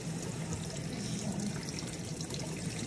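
Cold water poured over the outside of a pot of ribs sinigang, a steady close wash of running, splashing water with no breaks and no talking.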